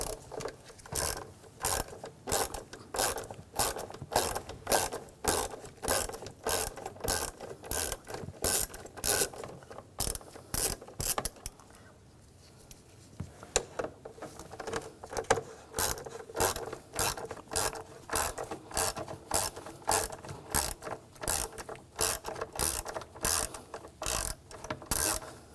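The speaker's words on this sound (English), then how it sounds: "We're going to use the Hex 5mm socket. Take those out." A hand ratchet with a 5 mm hex socket loosens screws on a 2007-2013 BMW X5 with the 3.0L inline-six. It clicks loud and close in fast, steady bursts of ratcheting strokes, with a short pause midway, and no talking.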